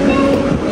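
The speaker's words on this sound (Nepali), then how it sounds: "फाइनली ट्रेन आएको छ" A train arriving at a station in Japan gives a brief, loud, low rumble with steady mechanical noise, heard close and continuous.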